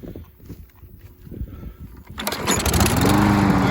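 A Craftsman Platinum EZ Walk 7.25 190cc walk-behind lawn mower being started in a yard: some handling noises, then the engine catches and settles into a loud, steady close-up roar.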